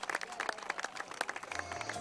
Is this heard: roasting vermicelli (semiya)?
no